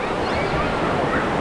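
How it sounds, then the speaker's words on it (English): Waves in the Typhoon Lagoon water park wave pool splash against rocks, a loud, steady rushing wash of water with no break. "you will get affected by those waves, even if you can see them splashing up there against the rocks"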